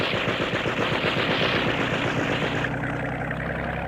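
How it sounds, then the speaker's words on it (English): Rapid machine gun fire rattles from a launch in an audio drama, a dense burst of quick repeated shots over a droning boat engine, loud and close, then the engine continuing alone. "Huberman's thugs had a machine gun in their launch and fired at us point blank."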